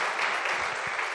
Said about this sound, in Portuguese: eu gostaria que você me ajudasse a retribuir essa salva de palmas para quem fez o trabalho aqui agora.